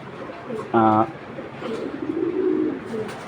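A racing pigeon gives one brief, clear cooing burst up close, followed by a low, soft murmur, with faint background sounds.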